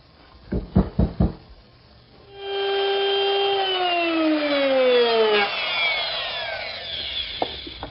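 Router with a bearing-guided laminate trimming bit trimming the back rail of a toy chest against a temporary pine strip: a few knocks, then the motor spins up to a loud whine that falls in pitch as it cuts and winds down.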